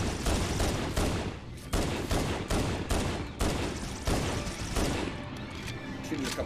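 Repeated loud gunshots and bursts of fire from Halo: Combat Evolved co-op, close and sharp, coming in quick clusters over several seconds with brief gaps between volleys.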